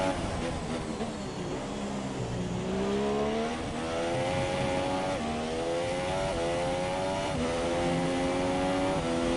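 A race car engine in a racing video game, circling the Stowe corner at the British Grand Prix. It revs up and down with the throttle in repeated rising sweeps and gear changes, loud and close, with no talk over it.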